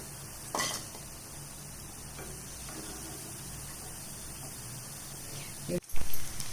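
Moong dal pakoda frying in hot oil gives a steady, soft sizzle, with a few utensil clinks and a sharper clatter near the end.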